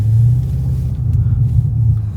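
BMW X5M Competition exhaust giving a loud, deep, steady low rumble at idle, close by and alone.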